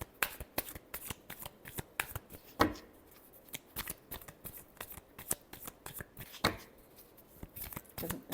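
Tarot cards being shuffled by hand, a quick run of crisp riffling slaps and flutters, close and fairly soft, repeating in short bursts with brief pauses.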